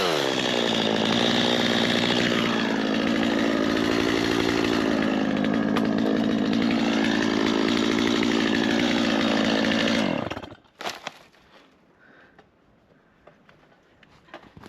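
A chainsaw cuts while trees are thinned out to clear land for pasture. The engine roars loud and close for about ten seconds with rising and falling revs, then stops, leaving faint knocks and quiet outdoor sound.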